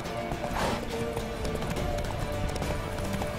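Roach, the horse in The Witcher 3: Wild Hunt, gallops with quick, rhythmic hoofbeats clopping steadily under game ambience, while a voice is faintly present.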